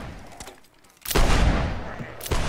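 A ragged musket volley from line infantry in a Whigs and Tories line battle game bursts out loud and close, overlapping shots rolling into a sustained crackle, with a couple of sharper reports before and after.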